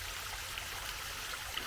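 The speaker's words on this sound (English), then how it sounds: "A little bit of water coming over here." Light trickle of water spilling over a square-cut stone waterfall wall after a storm, a steady, soft, close-by wash of running water with no talking.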